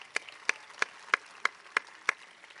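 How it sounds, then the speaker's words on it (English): Applause for special guests at a Founders Day ceremony comes through as seven crisp, evenly spaced claps, about three per second, close and distinct against a quiet room. "So let's give all of them a round of applause."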